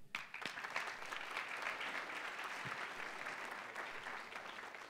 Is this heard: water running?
no